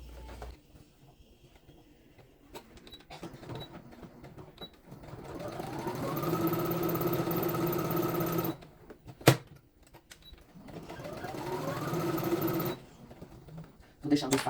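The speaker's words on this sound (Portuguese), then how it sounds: "eu vou juntar essas duas partes e vou costurar a partir só do nylon aqui" A sewing machine stitches the nylon lining of a zipper pouch, running in two long steady bursts separated by short pauses, close and moderately loud, with quiet moments of handling between runs.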